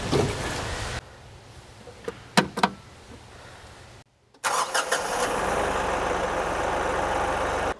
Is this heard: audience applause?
no